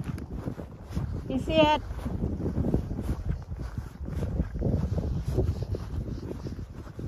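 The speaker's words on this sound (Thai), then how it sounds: "ลมด้วยนะ ลมหิมะด้วยค่ะพี่น้อง" Snowy wind gusts steadily across a Swedish winter scene by a frozen pond, buffeting the microphone with a low roar throughout while someone speaks briefly over it.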